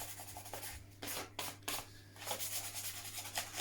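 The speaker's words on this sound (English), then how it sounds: "roughing up the areas just to get a good bond with the glue" Wheel arches of a Tamiya model truck being roughed up by hand sanding, soft close rasping strokes in irregular bursts over a faint steady hum.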